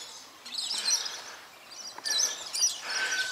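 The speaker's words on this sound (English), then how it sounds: "Listen to the birds." Birds chirp and call outdoors in the bush, several bright overlapping tweets and short trills of moderate loudness in quick bursts, with faint natural background around them.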